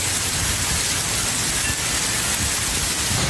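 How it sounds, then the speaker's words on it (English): Heavy monsoon rain pours down in Arizona, a dense, steady hiss of water on surfaces, loud and unbroken throughout. "I guess it rains in Arizona too."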